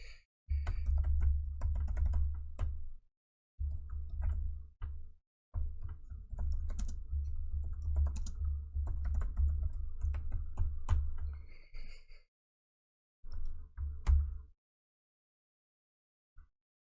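Typing on a computer keyboard in bursts of rapid key clicks, close and fairly quiet, with short pauses between runs and a final few taps.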